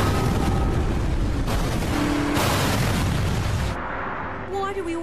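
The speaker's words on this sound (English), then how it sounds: "Why do we always show the explosion from 3 angles?" A cartoon explosion plays as loud, sustained booming rumbles. The blast repeats in overlapping bursts, with a music cue and faint voices at the tail.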